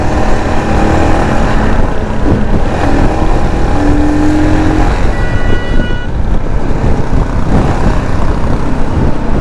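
Royal Enfield Himalayan BS6 motorcycle engine accelerating on the road, a loud continuous drone with rising engine tones and strong wind rush, heard close from the rider's position.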